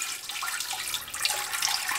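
Water pours steadily from a tap into a pot around a container of raw milk set up for home pasteurizing, a continuous close splashing rush with no talk.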